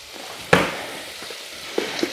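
Bacon frying in a pan gives a quiet, steady sizzle, broken by a sharp clatter near the start and a couple of softer knocks later, likely from stirring.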